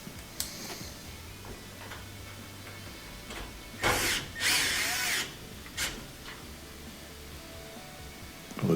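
Power drill driving a bolt into the cowling of a Maytag Neptune washer, with a few short bursts of high whirring followed by a longer run, close by, amid faint clicks and handling noise.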